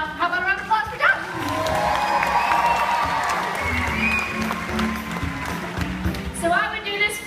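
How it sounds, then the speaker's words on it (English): An audience at a SeaWorld Orlando sea lion show breaks into loud, sustained applause and cheering, with a crowd roar swelling for several seconds before fading under a presenter's voice. "And how about a round of applause for Josh?"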